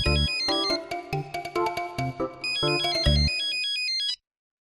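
A melodic electronic phone ringtone plays loudly for about four seconds, then cuts off abruptly into silence.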